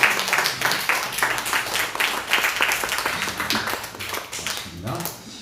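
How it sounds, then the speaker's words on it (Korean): A church congregation at a Sunday morning worship service applauds with dense, continuous clapping throughout, close and moderately loud, with voices mixed in. "박수로."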